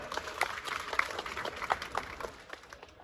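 Audience applause at the Bishnoi Global Convention and Expo in Jodhpur, many hands clapping in a moderate, scattered patter from a crowd at some distance, fading slightly toward the end.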